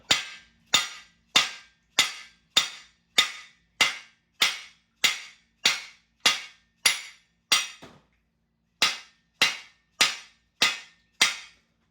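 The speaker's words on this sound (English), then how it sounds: "Then we take our hammer" Hammer driving a cone into an engine block during a 1968 Chevrolet C10 short block build, a run of sharp metallic strikes at a steady beat, close and loud, with one brief pause midway.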